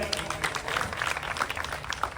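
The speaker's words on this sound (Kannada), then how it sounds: "ಬರಲಿ ಜೋರಾದ ಚಪ್ಪಾಳೆ" Applause for a prize winner at a school essay competition ceremony, a dense burst of many hands clapping from a crowd, fairly close and continuous, with voices faintly underneath.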